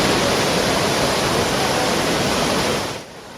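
A swollen river in Swat Valley rushes after monsoon flooding, a loud, steady broadband roar of churning water close by that drops off sharply near the end.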